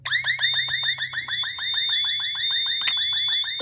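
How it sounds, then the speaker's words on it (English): An Ademco security alarm panel in zone alarm sounds a loud, rapid warbling electronic siren of repeated sweeping chirps, steady and close, with a faint low hum underneath and no talking. "Let's put a zone in alarm."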